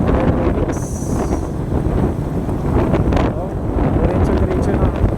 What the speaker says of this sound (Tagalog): Diretso po yung hangin dito.